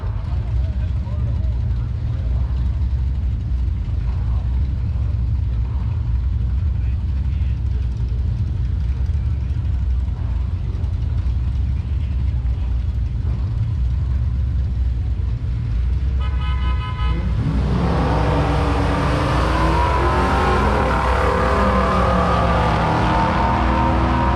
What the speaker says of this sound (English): rah Fernandez coming up right-hand side, and her first drag and drive behind the wheel, bringing her little Mazda Miata to the starting line